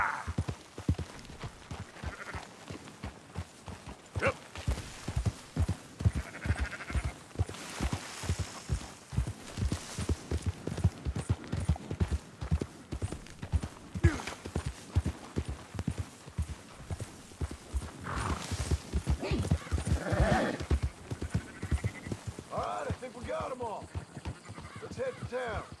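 Horse hooves clip-clop steadily through the whole stretch in Red Dead Redemption 2 while sheep are rounded up, a rhythmic close trot with faint animal calls and brief talk over it.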